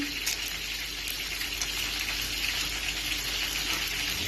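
A pot of sauce for kofta coming to a boil, giving a steady bubbling, hissing wash of sound that stays even and close throughout.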